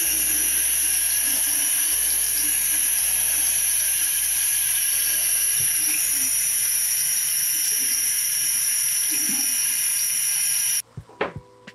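Running water rinses dish soap off a lacrosse head, a steady close hiss of spray that cuts off abruptly near the end, followed by a few faint knocks.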